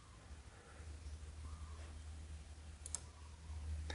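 A single faint click near the end as an on-screen payment confirmation button is pressed, set against a low steady hum with no talking.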